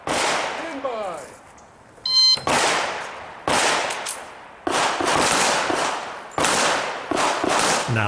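Pistol fire from a shooter at an IDPA match outdoors, with loud close sharp reports that echo and sound in quick pairs and bursts. A timer beep comes first and a voice talks over the shots.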